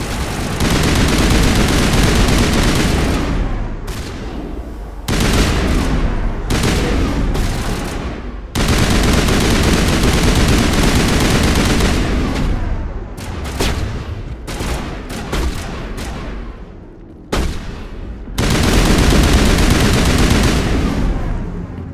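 Heavy, sustained gunfire from the video game Mass Effect, with dense volleys and rapid shotgun blasts broken by brief pauses, loud and close throughout with almost no talking.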